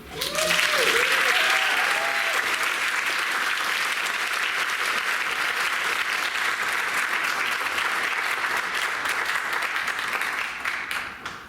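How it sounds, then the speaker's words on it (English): Loud, sustained applause from an audience at a high school senior achievement ceremony fills the whole stretch, dense clapping that holds steady before easing slightly at the end. "please applaud Hannah Sorokin."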